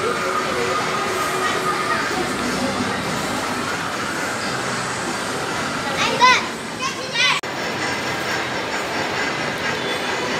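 Children ride a train, the continuous rumble of the moving carriage underneath, with kids chattering and calling out nearby and a couple of brief louder knocks partway through.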